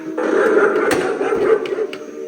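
A balloon-dog animatronic on a clown figure from Lowe's 2026 line lets out a loud, continuous electronic growling bark meant to mimic a vicious attack dog, heard up close with no talking.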